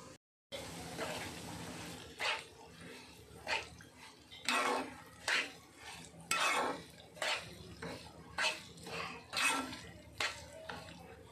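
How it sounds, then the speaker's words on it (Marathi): Semolina roasting in a pot over low heat for sheera, stirred with a spoon in repeated scraping strokes at a fairly even rhythm, faint and close. "हा रवा आता थोडासा लालसर होईपर्यंत छान भाजून घ्यायचा आहे."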